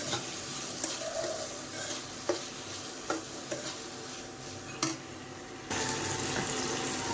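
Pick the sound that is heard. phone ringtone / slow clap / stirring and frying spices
stirring and frying spices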